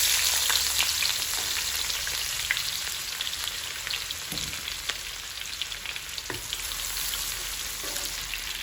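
Shallots fry in oil already used for frying fish, giving a steady, close crackling sizzle with occasional louder pops and no speech.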